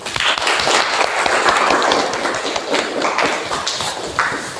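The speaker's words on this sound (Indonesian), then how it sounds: "Kita beri aplaus dulu" A classroom group applauds after a student role play, giving dense, fairly loud clapping from many hands that continues steadily and fades slightly toward the end.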